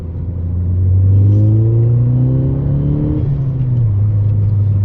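Steady engine rumble of a Volkswagen Golf GTI Mk6 with resonator-delete exhaust pulling forward, pitch rising gradually then settling into a smooth cruising drone; no voices.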